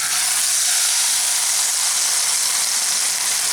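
Spice paste dropped into hot oil with whole spices such as cloves, giving a loud, steady, close sizzle and hiss that fills the whole stretch without a break.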